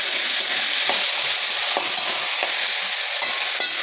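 Potatoes seasoned with salt and turmeric fry in hot oil, giving a loud, constant close-up sizzle with faint periodic scrapes of a stirring spoon and no talking.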